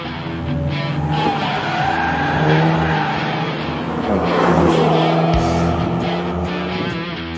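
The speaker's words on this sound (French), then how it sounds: "Il s'agit de la Golf GTI Sport Club que nous vous promettons de malmener sur le circuit de Potarnos." Volkswagen Golf GTI Sport Club hot hatch driven hard on the Potarnos race circuit, its engine note droning loud and steady throughout with tire skids and squeals rising as it corners, no talk over it.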